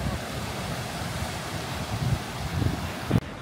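Wind on the Faroe Islands roars steadily across an exposed landscape, a constant broadband rush with a few low gust thumps on the microphone near the end.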